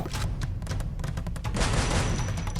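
Gunfire in the mobile battle royale game Free Fire, a rapid, loud fusillade of overlapping shots that continues densely throughout and swells heavier toward the end.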